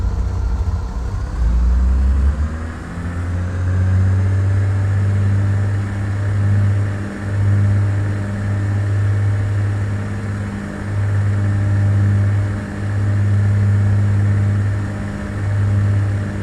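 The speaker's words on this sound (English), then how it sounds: "Let's apply full power with the brakes on." A simulated piston aircraft engine at full power with the brakes held in Flight Simulator 2004 gives a loud, steady droning hum that rises in pitch during the first two seconds and then holds with a slight rhythmic pulsing.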